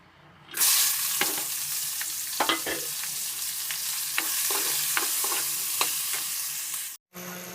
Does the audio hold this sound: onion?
yes